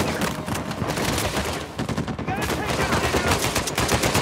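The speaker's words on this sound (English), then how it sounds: "They got a goddamn MG." Rapid machine gun fire and gunshots from the video game Uncharted 4, loud and dense throughout with continuous bursts and combat noise.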